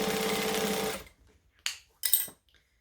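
A domestic sewing machine stitching fabric runs in a steady, dense whir for about a second, then stops, followed by a couple of short, sharp bursts of handling noise close by.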